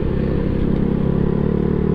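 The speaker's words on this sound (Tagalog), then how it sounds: "Madiin yata yung kamay natin sa pagbomba sa mga throttle ng motor." A Yamaha Mio Sporty scooter engine runs loud and close, with a steady throbbing rumble and a rattly texture throughout, and no one speaks.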